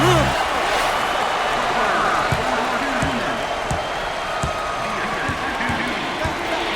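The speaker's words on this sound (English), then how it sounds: "Look at the crowd, Raph. Talk about home court advantage" Crowd at a college basketball arena in NCAA Basketball 10, a LSU versus Baylor tournament game: a loud sustained roar of fans with ball bounces and sneaker squeaks, commentators' voices over it.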